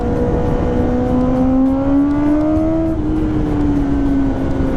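Kawasaki ZX-10R motorcycle with a modified exhaust accelerating on an open road, its engine pitch rising steadily through a gear, dipping briefly at a shift, then climbing again, loud and close throughout.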